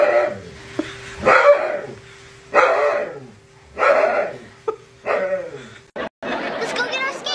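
A jealous dog barks in repeated loud bursts at close range, with high yips and whines between them and people chattering and laughing over the top.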